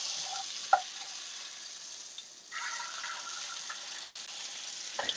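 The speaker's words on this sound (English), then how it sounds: "You want to get this good sear on it right here." Meat sears in a hot pan with a steady, hissing sizzle that holds throughout, briefly louder in the middle and punctuated by a couple of sharp clinks near the start and end.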